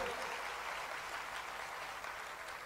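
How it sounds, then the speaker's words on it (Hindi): Audience applause at a Shri Ram Katha religious discourse in Gandhi Nagar, Delhi: steady, dense clapping from a crowd, sustained and fairly quiet throughout with no pauses. "अब की जो ताली बजानी है अपने लिए बजा लो महाराज"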